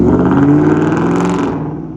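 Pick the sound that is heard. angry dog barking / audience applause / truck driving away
truck driving away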